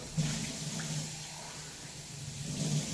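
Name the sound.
water running from a kitchen tap while cleaning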